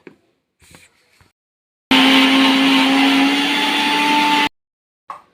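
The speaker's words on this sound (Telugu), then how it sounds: "నువ్వులు మిక్సీ పడదాం ఇప్పుడు" A kitchen mixer grinder runs in one loud, continuous burst of about two and a half seconds while grinding roasted sesame seeds, its whining motor tone stepping up in pitch partway through, with faint handling clicks before and after.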